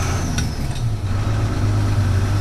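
Loud, steady diesel drone fills the cab of a 1978 Chevrolet one-ton squarebody dually with a 12-valve Cummins and Getrag five-speed, a deep low rumble holding constant throughout with no voices.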